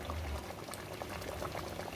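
Steady bubbling roil of water at a boil, close and continuous, with no talking.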